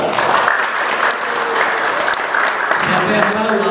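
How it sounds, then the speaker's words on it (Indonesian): Classroom of boarding-school students applauding a classmate, loud dense clapping sustained throughout with faint voices mixed in. "Tepuk tangan untuk teman kita."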